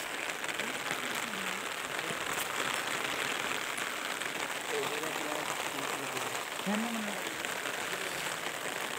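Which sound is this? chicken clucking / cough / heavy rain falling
heavy rain falling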